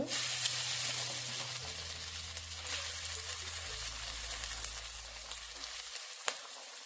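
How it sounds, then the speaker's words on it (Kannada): Beans for momo filling fry in hot oil in a home kitchen, a steady close sizzle and hiss with occasional stirring clatter. "ಎಣ್ಣೆ ಕಾಯ್ತಿದೆ. ಮೊದಲು ಬೀನ್ಸ್ ಹಾಕೊಳ್ಳಿ."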